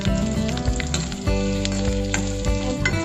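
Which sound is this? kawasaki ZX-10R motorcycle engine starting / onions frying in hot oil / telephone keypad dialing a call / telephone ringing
onions frying in hot oil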